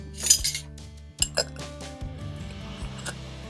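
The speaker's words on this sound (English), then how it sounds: "Now we're going to get this stirred up." A spoon clinks and scrapes against a metal pot while zucchini relish mixture with sugar and mustard seed is stirred, giving several bright knocks and rattles close by, with quieter stretches between.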